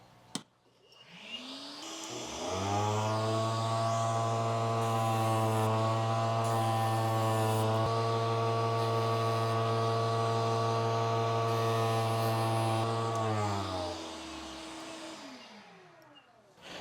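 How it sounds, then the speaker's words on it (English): A shop vacuum runs during leather sanding, spinning up over a couple of seconds into a loud, steady whine with strong harmonic hum, holding for about ten seconds before winding down and fading out. "I want to turn on my vacuum here so I can sand this guy down"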